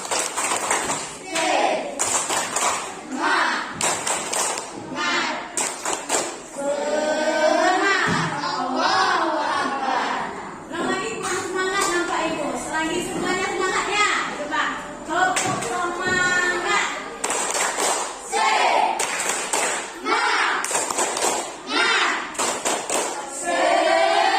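A classroom of pupils performs a rhythmic spirit clap led by their teacher, sharp patterned bursts of clapping alternating with loud group chanting, with voices nearly continuous between the claps.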